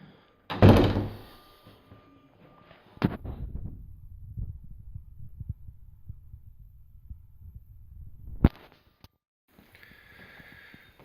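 A heavy door at Holmwood House is closed: a loud thud, then a low rumbling hum, a sharp latch click and quiet afterward, with no talk.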